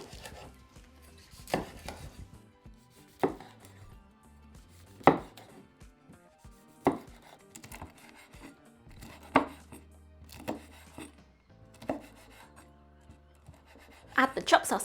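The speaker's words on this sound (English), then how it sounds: "now we need to roughly chop up the sausages and the bacon" Sausages and bacon chopped roughly into chunky pieces, with a knife striking a board in separate sharp thuds every second or two and a quick cluster at the end, while a voice speaks between strokes.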